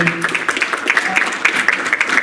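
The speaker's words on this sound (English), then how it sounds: "big round of applause so far for the panelists" Audience at a professional wrestling hall of fame panel discussion clapping for the panelists, close, loud and brisk, with rhythmic individual claps standing out in the steady applause.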